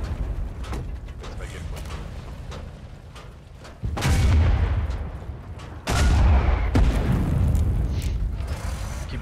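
Artillery fire in the Foxhole war game, two heavy booming blasts a couple of seconds apart that rumble loud and low over a steady background of game noise.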